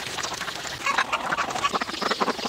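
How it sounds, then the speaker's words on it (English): Ducks quack repeatedly in a farmyard where hogs and chickens are also being fed, a dense, overlapping chatter of calls at moderate distance with no talk over it. "Nope, them ducks."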